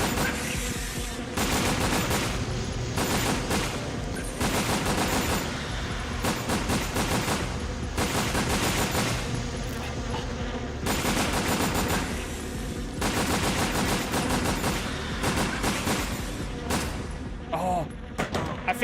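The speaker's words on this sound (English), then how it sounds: "Talking over the gunfire?" Rapid, sustained gunfire from the Resident Evil video game, dense bursts of shots in long volleys with brief gaps, loud and continuous across the whole stretch.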